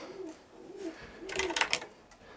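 Young roller pigeons settled in a box give soft, low cooing calls that repeat in short phrases, followed by a brief burst of brighter fluttering and scuffling close by, all fairly quiet.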